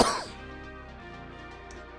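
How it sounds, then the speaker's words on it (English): A single sharp cough bursts out close and loud, then fades into a quiet hum of room noise. "I felt so cozy I made myself cough."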